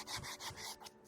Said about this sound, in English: I'm going to do a little bit of sanding on this by hand